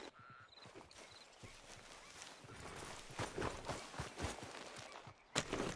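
Horse hooves walking in Red Dead Redemption 2, a steady run of clip-clop steps on the ground at moderate distance, with a brief bright clink near the end and no voices.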